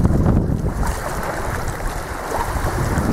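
Wind rushing past a sailboat on open water during a Florida sail-camping trip in roughly a 7-knot breeze, with a steady gusty roar against the microphone and faint wave wash underneath, loud and continuous, no voices.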